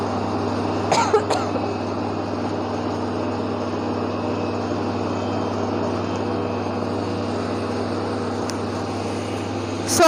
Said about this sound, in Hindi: ये जो है अब ग्राइंडर इनका चल पड़ा है, मिर्चें ग्राइंड होंगी